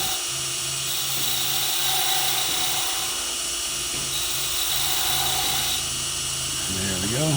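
A high-pitched rotary power tool whines steadily while cutting wood for a chain ornament, working from the high point to the low point, loud and close and nearly unbroken, with speech audible faintly beneath it.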